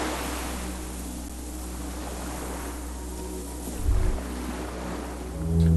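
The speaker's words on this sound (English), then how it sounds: "The distant sound of cargo ships, signal horns echo on the water" Distant cargo ships on open water in the game Disco Elysium, a constant low rumbling wash of waves and engine drone with a brief deeper swell toward the end, no voices.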